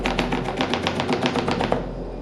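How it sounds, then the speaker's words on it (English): A knife chops fresh herbs on a chopping board in quick, even, close-up strokes, about eight or nine crisp taps per second with no talking. "So when I'm chopping,"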